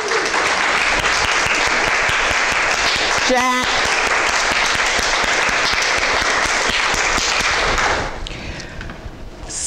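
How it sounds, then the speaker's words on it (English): A church congregation gives a loud, sustained round of applause that fills the room for about eight seconds before tapering off, with a brief voice calling out partway through. "Deserve another round of applause."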